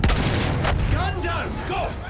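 Gunfire in a World War battle scene at a bridge against German defenses, a heavy opening blast followed by rapid overlapping shots and booms, loud and close, with shouted voices over the din.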